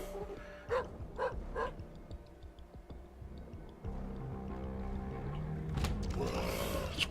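A dog barking in The Binding of Isaac: three quick, faint barks in a row, then quieter game effects and a steady backing tone, with no voices.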